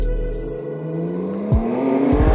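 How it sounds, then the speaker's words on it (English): A tuned BMW G83 convertible with a mid pipe exhaust, stage one tune and gearbox flash, accelerating up through the revs with a rising engine note, quick pops and bangs at gear changes, loud and close. "it's got the mid pipe on there. It's got all the other mods that Ash has mentioned, and then it's got a custom tune stage one with a gearbox flash"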